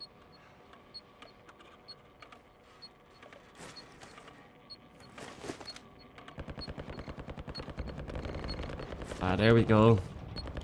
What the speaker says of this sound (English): Oh, heavy gunfire over there.